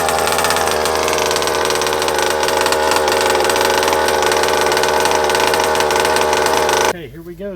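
Small gas engine of a Rovan Baja 5B 1/5 scale RC car running its first heat cycle, a loud, steady, buzzing drone held close for about seven seconds before it abruptly cuts off.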